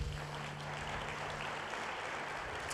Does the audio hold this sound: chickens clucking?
no